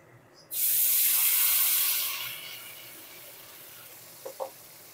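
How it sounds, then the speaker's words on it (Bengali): A tap gushes water into a mixing jar to rinse it, starting abruptly and loudly, then fading as the flow settles. A couple of soft knocks follow near the end. "মিক্সিং জারটা ধুয়ে আর একটু জল দিয়ে দেব"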